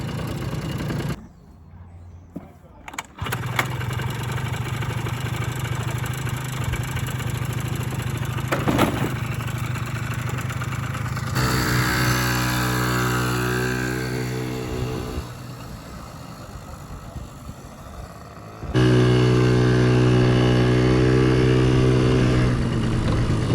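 A classic Honda Melody twist-and-go scooter's small engine starts after a brief quiet moment, then idles and revs with shifting pitch as it pulls away for a short ride around a yard. The engine stays steady and fairly close throughout.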